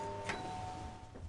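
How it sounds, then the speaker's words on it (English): A house doorbell gives one brief electronic ding, a faint tone over a steady background hum. "I rang the doorbell several times."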